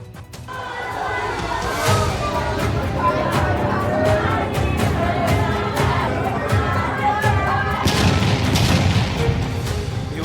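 A loud, heavy factory explosion in Bhiwadi, India, rumbles through, followed by sustained crashing noise and crowd commotion with voices throughout.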